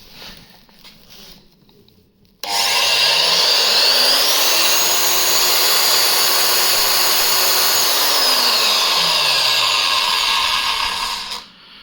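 A 2.1 kW circular saw with a 235 mm blade, powered from a Vitals Professional PS 1800qc portable power station, whines up to speed, runs loud and steady for about nine seconds, then spins down.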